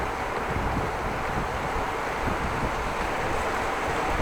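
Steady wind roar buffets the microphone while cycling outdoors through Groningen on a warm, damp day with a southwest wind, a continuous broadband rush with no talk.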